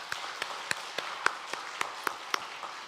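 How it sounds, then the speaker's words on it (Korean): A church congregation at a Sunday worship service claps together in a steady, evenly spaced rhythm of sharp individual claps, moderately close, with a faint murmur underneath. "박수하겠습니다."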